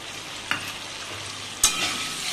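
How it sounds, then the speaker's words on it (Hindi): Spices frying with potatoes in a pan, a steady hissing sizzle throughout with a couple of brief scrapes of a stirring spoon, close and even. "मसाले को धीरे धीरे हम भूनेंगे आलू के साथ"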